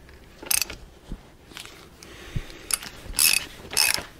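Shaft being worked out of a Caterpillar D4 Hyster winch: a few separate metallic clicks, scrapes and clunks with quiet gaps between them, close and fairly loud.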